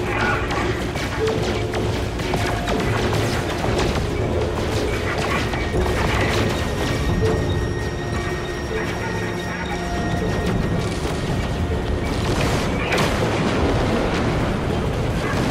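Continuous loud gunfire and explosions in the video game No Man's Sky, dense overlapping blasts and mechanical clatter throughout, with heavier bursts near the end, under some game noise.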